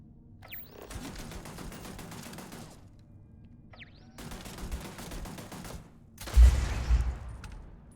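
Gunfire from the video game Starfield, with a shotgun involved: long sustained volleys of rapid shots in three bursts, loud and close, split by short quiet gaps.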